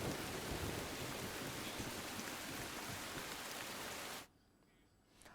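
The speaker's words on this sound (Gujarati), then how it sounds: "કપડવંજમાં ભારે પવન સાથે વરસાદ ખાબક્યો છે." Heavy rain driven by strong wind in Kapadvanj, Kheda district, Gujarat, makes a dense, steady roar that cuts off abruptly near the end.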